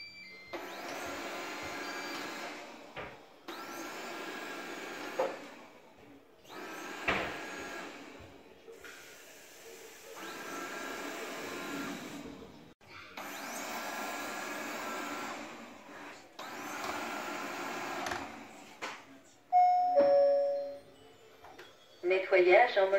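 A Honiture Q5 robot vacuum cleaner runs with a steady whirring drone in repeated bursts separated by short pauses, fairly close, ending in a few electronic beeps.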